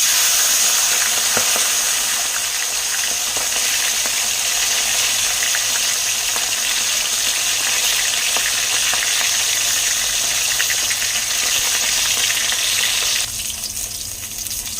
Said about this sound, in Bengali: মাথা ভাজা হয়ে গেছে, মাথাটা তুলে